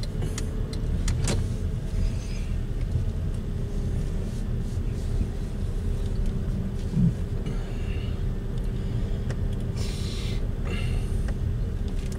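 A car pulling onto the road, heard from inside as a steady low engine rumble and road noise that holds evenly throughout, with a few faint clicks and light mechanical sounds and no talking.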